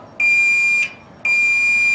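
Two steady high-pitched electronic beeps from a multimeter continuity test on a Samsung dryer thermostat, the first about two-thirds of a second long, the second held longer, with no talking.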